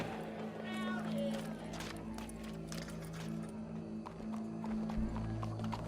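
Horse hooves clip-clopping in Red Dead Redemption 2, a steady trotting rhythm running under game music, with occasional voices in the background.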